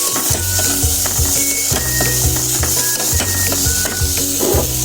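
Beaten egg with chopped tomato and onion frying in a pan for an omelette, a loud, continuous sizzle with a steady, repeating rhythm of low thumps and scraping throughout, no voices.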